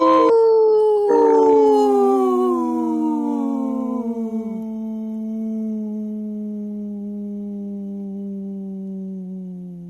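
Recorded wolves howling, with several long, overlapping, gliding howls that rise and then slowly fall, loud and clear with no talking.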